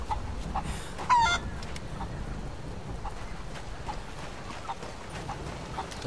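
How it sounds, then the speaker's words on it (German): Chickens roam free in Rise of the Tomb Raider, sounding as faint scattered clucks and scratchy rustles over a low ambient bed, with one sharper burst of noise near the start. "Und die Hühner laufen wieder frei rum."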